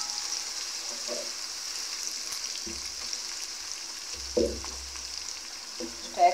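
Onions and garlic frying in a pot with a splash of water for chicken pilau, a constant soft sizzle up close, broken by a few stirring scrapes and clinks.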